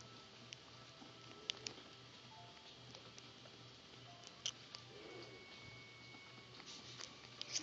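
Faint rain pattering in the PUBG video game, a soft steady patter with scattered ticks under a low hum, quiet and continuous.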